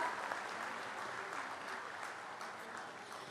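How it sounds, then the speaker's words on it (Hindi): Loud, steady applause fills a crowd at a mega health camp event, dense clapping held evenly throughout without a break. "जोरदार तालियों के साथ।"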